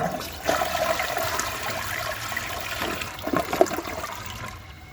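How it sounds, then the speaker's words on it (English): A 2011 Vortens Vienna toilet flushes with a dry bowl, giving a steady close rush of water that gurgles and swirls for several seconds and then begins to fade, with no voices. "That was a great flush for a dry bowl."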